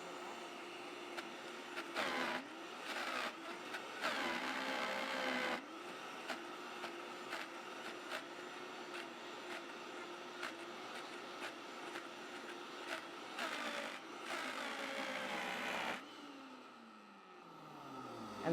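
A Vitamix Ascent X2 blender grinds loudly in bursts through frozen ingredients, its motor churning and labouring through thick contents, pausing briefly between runs before spinning down near the end.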